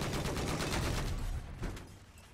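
Rapid automatic gunfire from a weapon in the Battlefield 4 video game, a dense burst of repeated shots lasting about a second and a half and then trailing off into a few scattered reports at moderate game volume.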